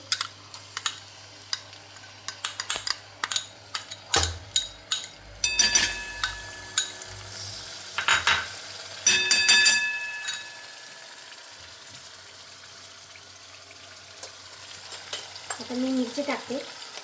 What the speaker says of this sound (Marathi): मी आता तेल टाकते आणि मसाला कसा परतवायचा ते मी तुम्हाला दाखवते